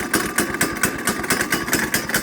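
A Honda engine on a kid-sized go kart runs steadily just after a cold start, a close, loud, rhythmic chugging pulse that holds even through the whole stretch.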